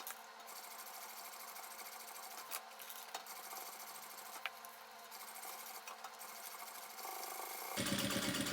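A sewing machine runs steadily at close range, stitching a zipper onto a thermal lunch bag, a continuous whirring hum with a few small clicks, and it speeds up sharply near the end.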